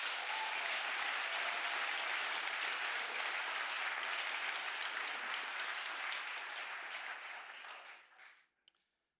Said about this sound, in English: please, another round of applause for everybody that submitted a project